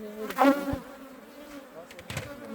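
Honey bees buzzing close by around a hive during feeding and maintenance, a tonal hum swelling loudly for a moment and then fading to a faint drone, with other buzzes passing later.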